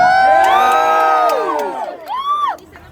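A crowd cheers and whoops loudly at a May Day rally, with high shouts and rising cries, a burst swelling then fading into another short whoop.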